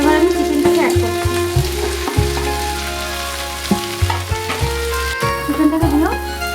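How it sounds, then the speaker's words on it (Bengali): Chicken goes into a hot pan and sizzles loudly and steadily, while repeated scrapes and clunks of stirring run through the frying over a low hum. "এবার আমি চিকেনটাকে অ্যাড করছি"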